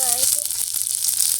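Bottle gourd leaf parcels of prawn patoori fry in a hot pan, giving a continuous close sizzle, with a short stretch of voice at the start before the frying carries on alone.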